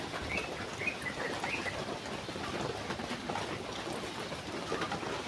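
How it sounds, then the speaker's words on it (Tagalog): Heavy rain pouring in a steady, dense wash of hiss and drops, with a few faint bird chirps rising briefly above it early on. "Puro ulan na lang ng ulan."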